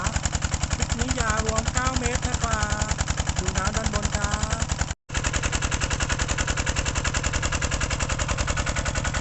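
Kubota 11 hp engine driving a water pump with an 8-inch stainless steel pressure pipe, a loud, rapid, even chugging that runs without a break apart from one short dropout midway, while a voice talks briefly over it.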